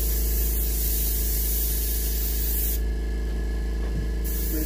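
An airbrush or spray gun hisses steadily as paint goes on a muskie fish mount for taxidermy, a close continuous spray that cuts out briefly near the end.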